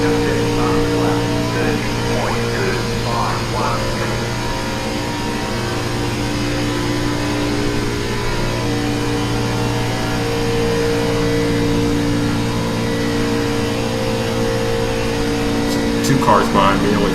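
A NASCAR Xfinity race car engine in the iRacing sim at Atlanta Motor Speedway holds a steady, droning high-rpm note with a faint rise near the end, running continuously as a voice talks over it.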